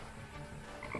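A frog croaks in the video game Deponia, a close, fairly loud raspy croak over a steady game background, with no one speaking.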